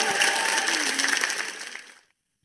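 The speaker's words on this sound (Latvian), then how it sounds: "Aplaus lūdzu vēlreiz Ievai Akurāterei." An audience applauding Ieva Akurātere, a dense burst of clapping that is loud at first and then thins and fades out after about two seconds.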